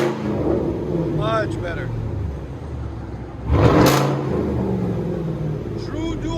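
A straight-piped 2017 GMC Sierra Z71 with a 5.3L V8 and true dual exhaust idles with a deep, steady rumble close by and rises briefly in a louder swell midway, while someone talks over it.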